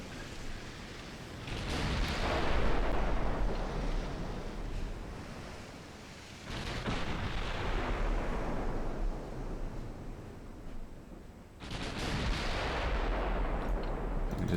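Video game artillery shells fire in three heavy booming blasts, each fading out in a long rumbling tail.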